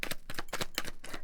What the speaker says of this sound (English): I'm going to shuffle 2 more times and see what comes out.